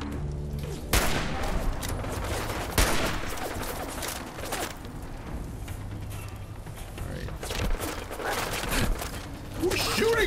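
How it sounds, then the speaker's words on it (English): Gunfire in Fallout 4 while fighting a fast-running suicider enemy: loud, repeated shots in sharp bursts across the scene, with a voice speaking over parts of it. "Now let's shoot this thing."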